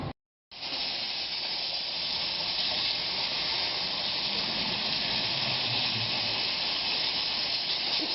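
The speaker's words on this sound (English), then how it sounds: "We've opened up the water and then the steam, and then you throttle back on the water" A steam injector runs in a test tank with water and steam flowing, giving a steady, loud hiss and rush that stays constant after a brief silence at the start.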